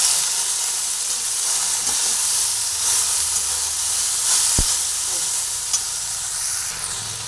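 Steady, dense sizzling of okra frying in a hot pan, a constant hiss with a brief knock partway through; no talking.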